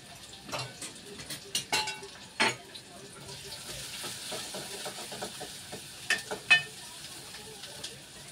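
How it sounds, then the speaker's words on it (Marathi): Onion frying in a pan while being stirred, with a soft steady sizzle broken by intermittent scraping and clinking strokes of the spoon, close and moderately quiet. "आणि कांदा चांगला व्यवस्थित भाजायला पाहिजे, कारण तो लाल झाला पाहिजे."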